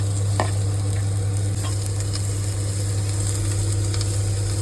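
Spices and tomato frying in a pan, a loud continuous sizzle with occasional stirring scrapes and clicks over a steady low hum, no talking.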